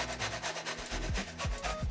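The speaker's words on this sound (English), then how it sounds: "So we're gonna use the zest of 2 lemons." Fresh lemons are rubbed against a zester for a vegan matcha cheesecake, giving close, rhythmic scratchy rasping strokes repeated quickly over two seconds, with no talking.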